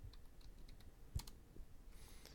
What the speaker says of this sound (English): let's go ahead and type in show.